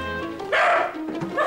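A dog gives a short bark-like yip with whimpering tones, close and clear, over a steady low hum.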